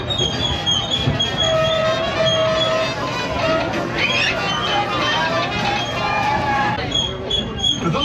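The Disneyland Railroad train rumbles and clatters steadily along its track near New Orleans Square, with wheel squeals and a constant rolling drone under the murmur of passengers talking nearby.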